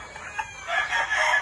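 Pure Lemon gamecock rooster and Duke Halsey Gray hens on a large farm in the Philippines, with soft clucking first and then a loud, close crow sustained through the rest, no talk.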